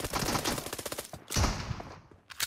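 Gunfire in the mobile battle royale game PUBG Mobile: a rapid burst of automatic shots in quick even rhythm, a short pause, another sharp burst, then a final shot, fairly close and crisp.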